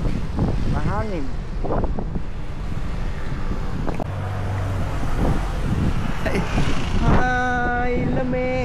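Strong wind buffets the microphone with a steady low rumble, while people talk over it and a vehicle engine hums nearby.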